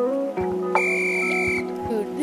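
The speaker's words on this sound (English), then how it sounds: "And there's a whistle." A sustained synthetic whistle tone holds for about a second in the VR game Gorilla Tag, set against a busy electronic game soundscape with a low pulsing rhythm.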